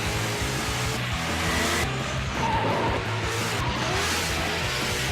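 A car burning rubber on asphalt at dawn, engine revving loudly under a harsh, scraping tire squeal in repeated bursts, steady and close throughout with no voices.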